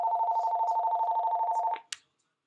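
An incoming call on a phone system sounds as a steady warbling electronic ring that carries on for under two seconds and then cuts off, followed by a short click.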